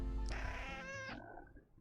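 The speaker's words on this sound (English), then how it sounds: "Oh god, the cat from Trine is back." A cartoonish cat meows loudly in a video game, one drawn-out yowl lasting about a second, close and clear, with a low rumble underneath and then fading into quieter background noise.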